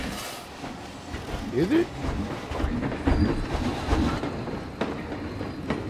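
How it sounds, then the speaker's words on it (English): A park train rolls past with rhythmic clickety-clack and hiss of the cars, moderately close, while people talk over it. "Oh, this train must be full."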